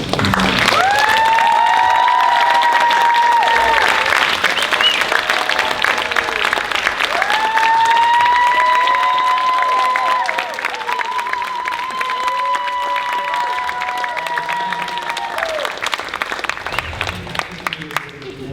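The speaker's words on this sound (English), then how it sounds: "A round of applause for our next generation of leaders, current Asian American Studies students." A crowd claps steadily for current Asian American Studies students at an alumni and friends reunion, the dense applause sustained throughout under a layer of cheering while a voice keeps speaking over it.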